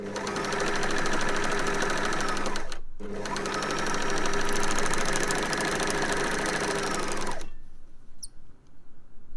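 Sewing machine stitching a sports bra with mesh fabric, a steady rapid mechanical whir running loud and close, briefly halting near the three-second mark, then resuming until it stops near the end.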